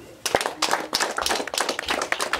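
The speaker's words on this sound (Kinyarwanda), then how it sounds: "Amashyi ku Mana." Wedding guests clap at a lively ceremony, a burst of uneven, overlapping hand claps that starts after a brief pause and continues close and energetic, with faint voices underneath.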